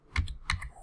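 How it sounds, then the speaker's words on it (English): Two crisp computer keyboard arrow-key presses, close and clear, spaced about a third of a second apart, with no talking. "Press Enter on your keyboard"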